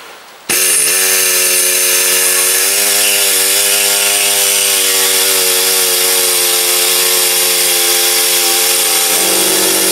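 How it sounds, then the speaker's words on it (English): A pneumatic sabre saw cuts through a rusted nut on a sway bar drop link bolt of a 1998–2006 Toyota Yaris, giving a loud, steady, buzzing whine that starts abruptly and runs continuously close to the listener. "So I've got my sabre saw here, air saw."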